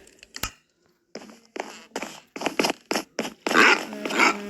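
Dog sounds from a tame wolf in Minecraft: a few short, separate whines and yips, closer and louder toward the end, with gaps of silence between them.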